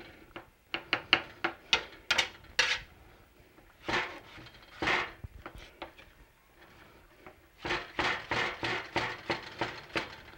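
Knife chopping vegetables on a cutting board in a home kitchen, sharp close taps in quick bursts separated by short pauses.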